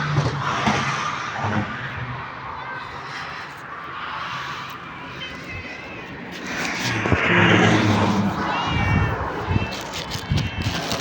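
A cat meows several times at close range amid household noise, its calls mixed in with a person talking nearby.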